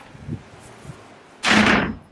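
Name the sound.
hotel room front door slamming shut from balcony draft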